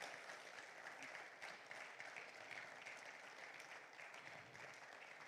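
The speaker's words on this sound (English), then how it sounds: "Let's keep clapping till he gets to his seat." A conference audience claps continuously at a law and business event, a dense, even wash of many hands that stays faint and distant from start to finish without a break.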